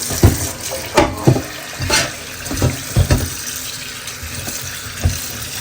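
Running tap water splashes into a sink as shrimp and taro stems are rinsed by hand, with intermittent thumps and sloshing bursts over a steady flowing stream.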